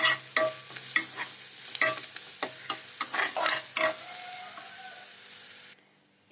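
A potato mixture is stirred as it fries in a pan. A spoon scrapes and clicks in an uneven rhythm over a steady sizzle, then the stirring stops and the frying quietly carries on.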